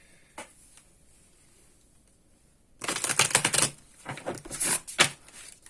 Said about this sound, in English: let's go ahead and give everything a good shuffle